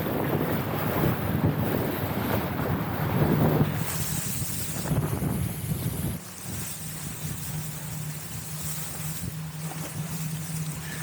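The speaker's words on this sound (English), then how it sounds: "The wind is really pushing the bow into the waves." Wind roars across the microphone while waves slap against a sailboat's bow on a windy day, a steady loud rushing that drops a little partway through and carries a low hum beneath it.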